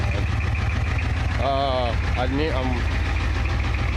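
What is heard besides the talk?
1985 Ford F350 6.9 IDI diesel engine rough idle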